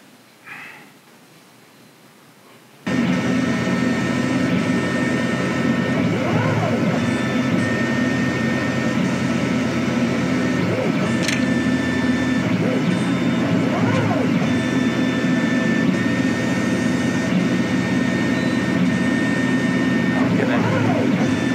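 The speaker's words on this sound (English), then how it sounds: "the motor is exactly programmed that the motor turns the bottle" A programmed motor turning a bottle in an iron sculpture starts abruptly after a few seconds of quiet and then holds a loud, steady, close hum.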